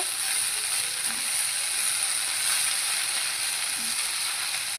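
Brinjal and fenugreek greens cooking in a pan, salted, give a continuous even hiss with faint scraping underneath, steady from start to finish, with no talk.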